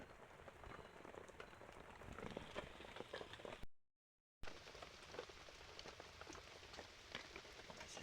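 Rain falls steadily, a dense patter of drops on surfaces heard quietly and continuously, broken by a brief gap of silence midway.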